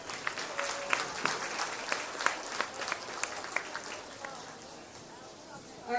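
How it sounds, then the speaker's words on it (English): Crowd applause at a county buckwheat festival show ring after a sheep show class, dense steady clapping with occasional sharp claps, fading slightly toward the end. "Let's give them all a big round of applause"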